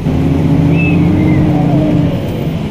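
Hino 700 truck engine revving with a rising turbo whistle, loud and close, a steady heavy engine roar carrying a high spooling whine that climbs and fades.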